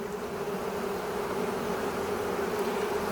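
Honeybees from a 3 lb package swarm and buzz steadily while being installed into a nuc with drawn comb, a dense continuous hum throughout.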